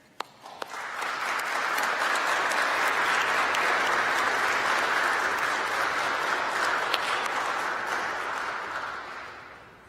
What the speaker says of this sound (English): Let us give another round of applause for all of our military veterans and family members who have participated in their journeys.